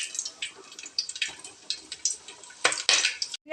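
Whole spices such as cloves and cardamom drop into hot oil in a pan, bringing bursts of crackling sizzle and spoon clinks against the vessel, close and without talk.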